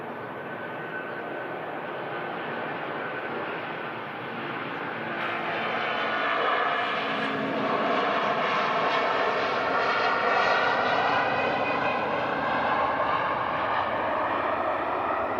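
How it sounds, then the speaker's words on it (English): A Jet2 Airbus A330-200 jet airliner departing Manchester Airport gives a loud, sustained engine roar that swells over several seconds as it climbs away, with no talking. "the next departure will be the Jet2 plus A330 200, Jet2 flight 979 to Lanzarote."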